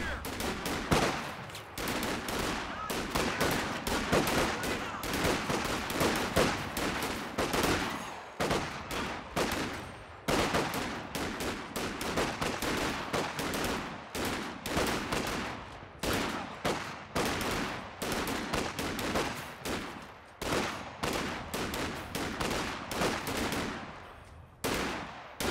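Rifle gunfire in a video game battle as riflemen charge grenadiers behind light cover: dense, rapid overlapping shots and bursts throughout, fairly faint overall, with no talk.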